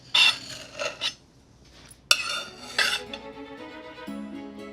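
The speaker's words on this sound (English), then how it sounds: "Let's cut a nice slice, just like that. A nice, sharp, long knife will do." A long sharp knife slices through a chocolate ricotta cheesecake, giving a few close, soft scraping and rasping strokes with brief pauses and a sharper tap partway through, alone without talk.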